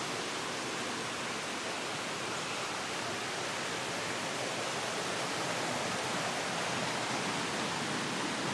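A creek flows beside a campground near the Nantahala River in North Carolina, a steady, even rush of water filling the scene without pause and with no voices.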